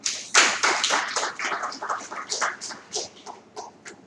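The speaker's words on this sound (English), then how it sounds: "Round of applause." An audience at a press conference on the 2016 voter register claps, a steady round of applause that starts sharply and gradually tapers off.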